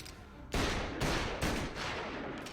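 Gunshots in Mafia Definitive Edition: several loud, heavy shots in close succession, each with a booming echoing tail, after a quieter opening.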